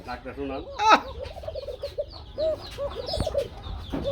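Several bursty pigeon coos and calls repeat at close range, with a sharp click partway through and faint background noise.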